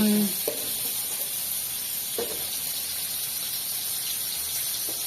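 Cumin seeds and chicken sizzle in hot oil in a village kitchen, a steady soft hiss with a few light knocks near the start.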